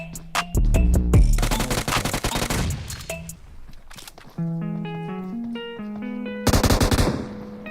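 M4 rifle fire from a video game comes in loud automatic bursts, a long rattling stream, then scattered single shots and another dense burst near the end, mixed with tonal game sounds.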